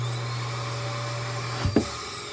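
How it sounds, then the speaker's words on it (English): A central vacuum system in a 2018 Grand Design Momentum 397TH RV runs with a steady, close, droning hum, with a brief clatter of debris being sucked in near the end. "it basically just sucks everything into the vacuum bag, so you don't have to bother with a dustpan"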